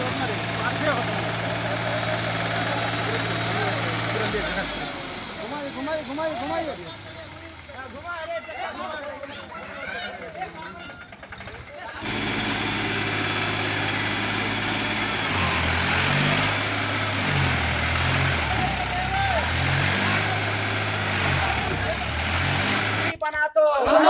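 A tractor stuck in mud on a badly waterlogged village road, its engine idling and revving steadily under continuous nearby talk, the pitch rising and falling as it strains.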